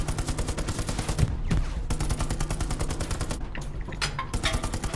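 Gunfire from a tank in the World War II shooter Hell Let Loose: rapid, evenly spaced automatic bursts rattle on loudly, broken by a few heavier blasts.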